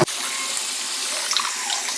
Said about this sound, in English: Rinse it off with cool water.